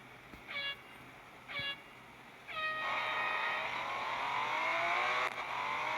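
A Porsche 718 Cayman GT4 RS race car engine in a racing video game gives two short tonal blips, then a long, steadily rising whine as it revs up under acceleration, fairly loud and with no talk over it.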